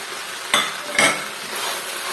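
Chinese noodles are tossed and mixed in a hot pan under a steady sizzle, with two sharp utensil scrapes close together near the start and no talking.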